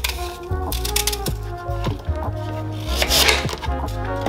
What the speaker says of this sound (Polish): Dorzucam sobie jabłuszko i też je kroję na mniejsze kawałki.